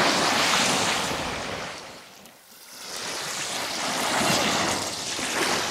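Waves washing in outdoors at Sevan, a steady, fairly loud broadband rush mixed with wind noise that dips briefly midway before swelling back up, with no voices.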